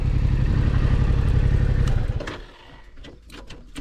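A Yamaha MT-07 motorcycle engine with stock exhaust putters with a rapid rhythmic thump for two seconds, then cuts off, leaving quiet clicks and clatter afterward.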